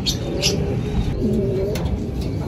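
Racing pigeons coo softly inside a loft, with low throaty murmurs from several birds overlapping under steady background noise and a few brief chirps.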